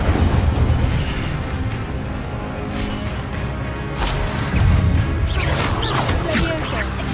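Incendio fire spell effects in a Harry Potter video game, a loud continuous roaring, booming blast with crackling bursts toward the end, under a spoken voice.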